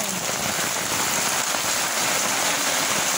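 Heavy rain pours in Malda town, a dense, steady hiss of drops drumming on surfaces without a break, loud and close, with no voices.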